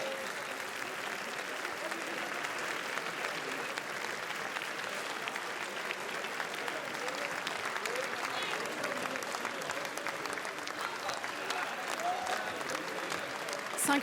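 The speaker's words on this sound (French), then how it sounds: "Tandis que toute l'équipe de Burning rentre dans la salle sous les applaudissements du public" An audience in a Cannes festival theatre applauds steadily as the film team of Burning enters the hall; the dense clapping stays even and full for the whole stretch, a broad wash of many hands.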